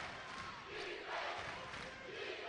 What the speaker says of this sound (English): Crowd getting vocal.